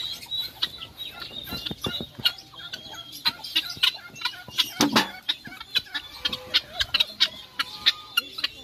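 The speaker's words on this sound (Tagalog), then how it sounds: "Parang ang laki ng manok na yun." Chickens clucking nearby in short repeated calls, with a few louder squawks and faint background chirps.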